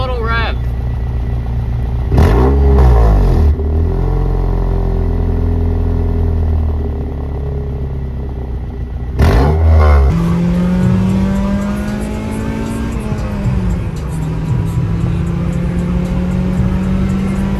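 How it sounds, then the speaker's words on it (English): A Honda Civic EP3 engine with a cheap new aftermarket exhaust is revved several times, with sharp rising bursts between a steady idle and a longer climbing rev near the end, close and loud. "Give it a little rev."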